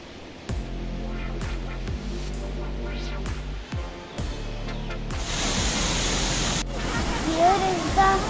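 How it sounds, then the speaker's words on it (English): Vickery Creek Falls near Roswell Mill, a broad steady rush of falling water that swells louder partway through. Some thumps and a short voice-like sound come in near the end. "that was very satisfying also, listening to voice of water"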